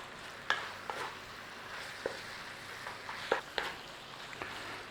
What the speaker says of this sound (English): And in there with that sauce. Nice little stir through. Chuck it around in there.